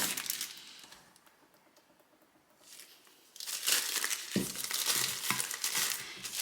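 Crinkly plastic wrapping rustles and crackles close up as a 20 oz sublimation tumbler is slid back inside, quiet at first, then a louder, busy run of crumpling.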